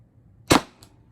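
A Pepperball TCP launcher fitted with a 6-inch Lapco barrel fires a single sharp, loud pneumatic shot with a short tail and a faint echo right after, heard alone against quiet background.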